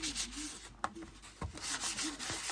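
Paper towel rubbed firmly over a makeup palette to clear excess powder, rhythmic close scrubbing strokes with a few sharper taps between them, no talk.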